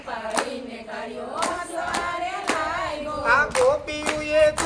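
Rhythmic hand claps keep time with a sung Gujarati devotional kirtan, sharp evenly spaced claps over the melodic singing voices.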